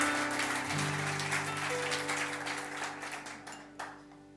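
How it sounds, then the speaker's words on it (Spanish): A church congregation applauds in steady, moderate clapping with a sustained musical tone running underneath, fading slightly toward the end. "den un aplauso a Cristo el Señor"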